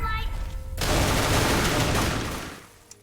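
Gunfire in the Roblox Squid Game mode: a dense, roaring volley of overlapping shots that swells in and holds for about two seconds, then fades, with a brief sound before it.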